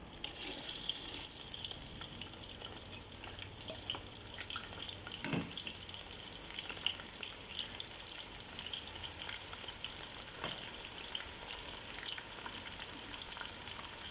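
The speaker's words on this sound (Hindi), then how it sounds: "माशाल्लाह कितना ज़बरदस्त प्याज फ्राई हो गया" Three large chopped onions fry in hot oil for a beef aloo keema, giving a steady, dense sizzle with occasional soft knocks of stirring.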